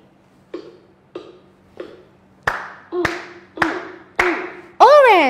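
Sharp hand claps keep a steady beat along with a children's English song in a beginner classroom lesson. The claps grow louder and fuller over eight beats, and a sung voice rises at the end.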